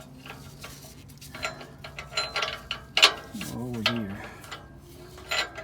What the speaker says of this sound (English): Then I'm going to put my socket on this end over here